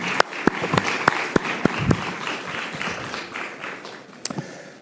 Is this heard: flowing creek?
no